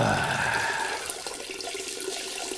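A toilet flush used as a sound effect in an audio horror story set in a bathroom, a loud rushing, gurgling wash of water that starts strong and settles into a steadier trickle over a few seconds.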